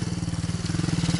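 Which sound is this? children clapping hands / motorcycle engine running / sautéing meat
motorcycle engine running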